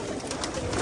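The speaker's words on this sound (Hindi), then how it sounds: "ये सारे कबूतर गोल्डन और टेडी हैं।" Golden and teddy pigeons cooing softly in a loft, a brief low murmur of coos close by with faint background noise.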